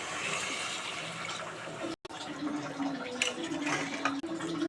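Water pours steadily into a cooking pot for chicken pulao, a close gushing splash with a brief break midway, then a rising filling tone as the pot fills.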